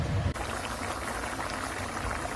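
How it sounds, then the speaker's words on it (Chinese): Spicy mapo tofu sauce with minced pork bubbles and simmers in a pot, a steady, soft burbling heard close up with no talk over it. "咕嘟一会儿啊， 哎，炖一会儿"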